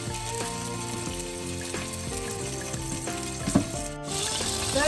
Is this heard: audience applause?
no